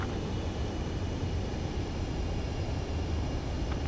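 An aircraft approaches a runway to land in the Ace Combat 7 video game, a steady broadband jet roar holding at an even level, with no clear change across the span.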